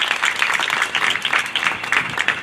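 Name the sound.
audience applause for the health department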